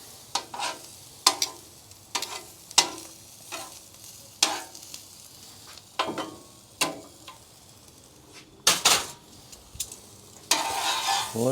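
Burger patties and onions frying on a hot griddle for a patty melt, a low sizzle broken by repeated sharp scrapes and metallic taps of a spatula, close and irregular, with no voices.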